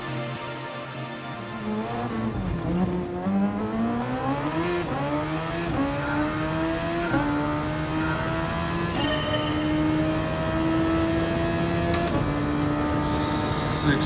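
A race car engine in the video game Gran Turismo Sport revs up and shifts through the gears, its pitch climbing and dropping in loud, continuous sweeps with no pause.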